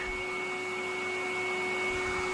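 A vacuum cleaner runs indoors as a steady, continuous whine with a constant tonal hum, alone and fairly loud for the whole stretch, in a home powered by a Deye SUN 15K three-phase inverter.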